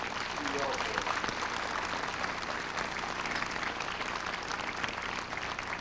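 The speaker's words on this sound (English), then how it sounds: "How about a round of applause for all those Marines that do well for us?" A crowd at a Marine Corps recruit depot ceremony gives sustained applause for the Marines, a thick, even wash of clapping that holds steady with some crowd murmur mixed in.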